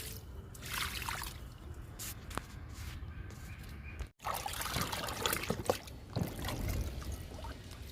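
Liquid fertilizer trickles and pours onto a curry leaf plant in a home garden, a soft, steady near dribble with brief splashy bursts and no talk.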